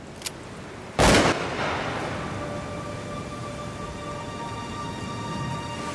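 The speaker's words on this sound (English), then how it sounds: "I heard a gunshot that was pretty close." A single sharp gunshot cracks close by outdoors, a loud broadband burst lasting a moment, followed by a fading tail over quiet background with faint steady tones.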